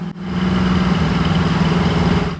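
Engine and mufflers of a 1968 Chevrolet Camaro idling steadily with a low, even burble, heard up close with no talk.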